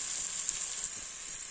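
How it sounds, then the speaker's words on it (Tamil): Turkey berries and masala fry in hot oil while being stirred, a steady close hiss and crackle of sizzling with a few small pops, no voices. "இனி நல்லா கிண்டிக்கிடுவோங்க"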